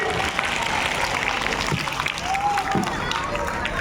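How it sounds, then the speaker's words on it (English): Students clap for a team after a right answer at a school general knowledge quiz, a loud crowd burst of applause with voices and cheering mixed in throughout. "Clap for them."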